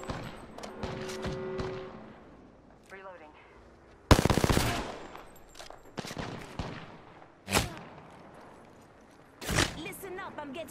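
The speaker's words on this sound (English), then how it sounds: "I'm getting shot at." Gunfire in Apex Legends: several sharp bursts and shots, with loud cracks near the middle and toward the end, over a busy game background with other weapon and effect sounds.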